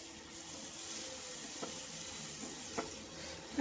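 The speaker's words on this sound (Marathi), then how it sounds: "लसणाची खरपूस फोडणी बसली ना तर भाजीची टेस्ट खूप छान येते" Garlic tempering sizzles softly in hot oil, a faint, steady crackle with a couple of light clicks.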